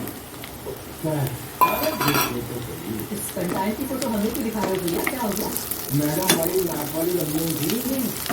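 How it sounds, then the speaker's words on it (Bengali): Large onions dropped into hot oil in a home kitchen pan, sizzling steadily and close, with a spatula clinking and stirring against the pan and a voice talking faintly over it. "এবার এই বড়ো পেঁয়াজগুলো দিয়ে দেবো"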